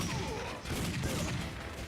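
Enemy gunfire in the arcade light-gun shooter Time Crisis, a steady dense crackle of overlapping shots running throughout at moderate loudness, with no clear pauses.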